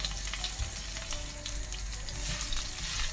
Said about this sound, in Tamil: இப்போ இது கொஞ்சம் நல்லா பொரி ஆரம்பிச்சிடுச்சு